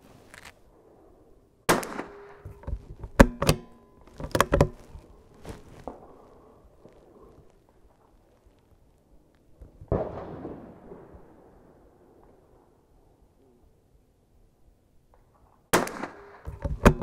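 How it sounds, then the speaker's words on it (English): A CZ 454 rimfire rifle fires at an outdoor shooting range, sharp single cracks in small irregular clusters separated by long quiet gaps, each shot short and fairly loud. "Shot 10 rounds at 25 yards just to kind of get where the zero's at"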